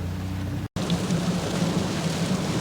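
Heavy rain pours steadily in a Malaysian village, a dense even hiss with a low rumble underneath, broken only by a momentary cut before the downpour continues.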